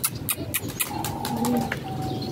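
Pet pigeon with a run of sharp wing claps as it takes off, then softer flapping mixed with faint cooing and a thin tone nearby.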